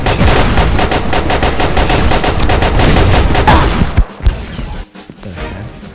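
Rapid automatic gunfire in the Pixel Gun 3D video game, a loud continuous burst of shots for about four seconds before it breaks off into scattered impacts and quieter game sounds.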